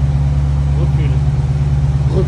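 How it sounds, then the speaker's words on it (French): An American muscle car reverses with a deep, steady engine rumble close by, loud and continuous, with people talking faintly over it. "Une voiture qui recule."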